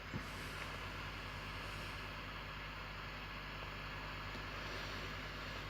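Laptop cooling fan roaring loudly and steadily, a constant broadband whoosh with a low hum that holds unchanged throughout, with no talking.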